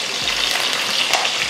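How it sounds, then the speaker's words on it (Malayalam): Green chillies sizzle in hot oil in a pan, a steady bright crackle close by with no voices. "എണ്ണയിൽ നന്നായിട്ട് പച്ചമുളക് ഫ്രൈ ആയിട്ട് എടുക്കണം"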